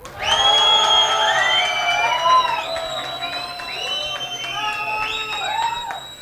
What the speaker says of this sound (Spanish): Aplausos para Casey Pop.